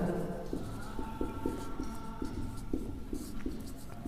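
Chalk or marker writing on a classroom board, soft scratchy strokes repeating in a loose rhythm under a steady room hum, moderately close.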